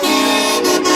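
A loud, sustained train horn blares from a Ford F-250 pickup at a train horn contest during the SEMA Show parade, holding one steady multi-tone chord for the full second without a break.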